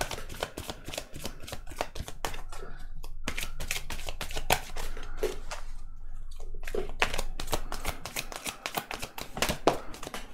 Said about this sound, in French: on va tirer 4 cartes